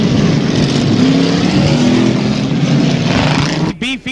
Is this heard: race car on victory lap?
yes